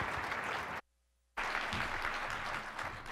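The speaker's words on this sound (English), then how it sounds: "we have to give him an extra big round of applause" A conference audience claps loudly and steadily, broken by a brief silent gap before the applause resumes.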